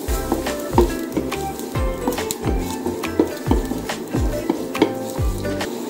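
Onions going into hot oil in a pan, a loud continuous sizzle punctuated by rhythmic thumps and scrapes of a utensil stirring, close and clear with no talking.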